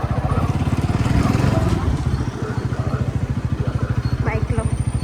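A motorcycle engine rumbles steadily and close at hand throughout the ride, with a rhythmic low chug and some faint background sounds.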